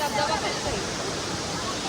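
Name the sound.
waterfall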